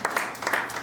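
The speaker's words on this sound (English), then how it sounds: "So anybody who wants to applaud, now is the time." Applause from the audience at a town council meeting, a short burst of scattered clapping with uneven bursts, moderately close and on its own.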